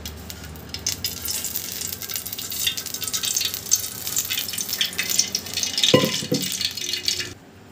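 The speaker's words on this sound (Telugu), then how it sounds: "ఇప్పుడు ఆయిల్ బాగా వేడెక్కింది." Cooking oil heats and sizzles in a kadai on a gas stove before making egg curry, giving a constant crackling hiss with small pops and a brief louder rattle near the end, no voices.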